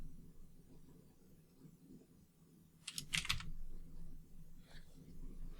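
Brief bursts of quick keystrokes on a computer keyboard, a tight cluster of clicks in the middle, faint and close over a low room hum, with a few soft taps afterward; no speech.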